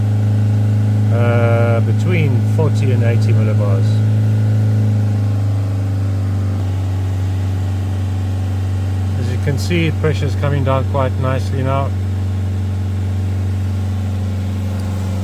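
A Fiat Ducato camper van engine is held steady at around 3,000 revs during DPF cleaning, giving a constant low drone throughout while someone talks over it close by.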